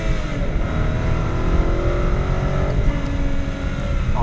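A 2016 BMW 750i sedan's engine roars steadily at high revs, pitch climbing as it accelerates at full power, loud and continuous with wind and road noise underneath.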